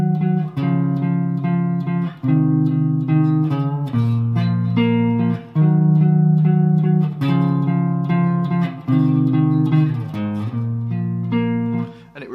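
Guitar plays the opening intro of a song in standard tuning, a repeating riff of plucked notes and chord stabs in steady phrases, close and clear with no voice.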